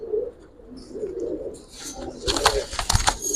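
Giribaz pigeons coo in low, soft, repeated murmurs close by, followed by a flurry of sharp flapping and rustling near the end.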